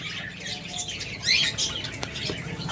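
A breeding pair of pet budgerigars or lovebirds chirps in a cage, with soft, fairly close high tweets and brief chatter over a low background hum.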